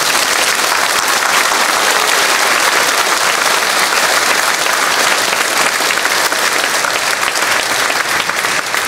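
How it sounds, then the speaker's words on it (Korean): A church congregation applauds steadily and loudly at a pastor's installation service, a dense, continuous wash of clapping that holds its level throughout with no voices breaking through. "박수하겠습니다"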